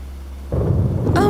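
Cartoon thunder effect before rain: a quiet lull breaks into a loud, close rumbling roll that keeps booming, with a bright rising tone entering near the end.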